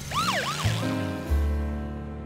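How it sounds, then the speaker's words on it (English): A cartoon ambulance siren in Curious George wails with a quick rising-and-falling warble at the start, followed by lower sustained engine-like tones fading out; bright and brief with no voices. "always wanted to ride in an ambulance"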